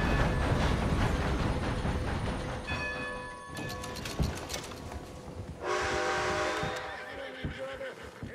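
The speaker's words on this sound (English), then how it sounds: "Oh, look, my horse is there." A horse whinnying in the Red Dead Redemption 2 video game, with short neighing bursts heard over a continuous rumbling train and clopping hooves, fairly close and prominent.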